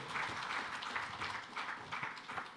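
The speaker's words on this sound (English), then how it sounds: "Another big hand clap for Mr. Ojambo." Audience applause at a suppliers forum, a steady dense wash of many hands clapping that holds at an even level throughout, fairly close and filling the room.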